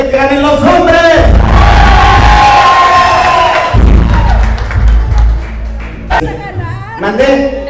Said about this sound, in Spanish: El aplauso a los que quieren que ganen los hombres.